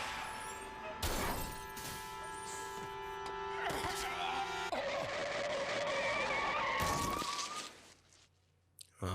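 Car tires skid sharply in a Death Note anime scene, followed by heavy impact thuds as the vehicle strikes a person; loud, busy street ambience and engine noise continue, with a brief drop to near silence at the end.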